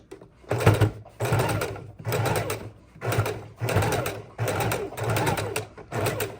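Sewing machine stitching a thin fabric strip for ruffles: loud, close bursts of rapid mechanical whirring, about seven runs of roughly half a second each separated by brief pauses.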